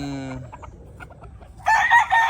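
A young rooster (stag) cackles and clucks up close, a harmonic call at the start, then soft clucks, ending in a loud, bright crowing burst.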